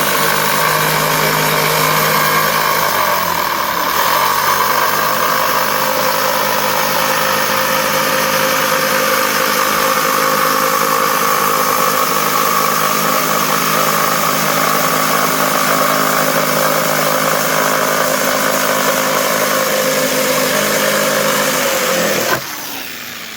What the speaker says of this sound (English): you've got to get the jigsaw in like so.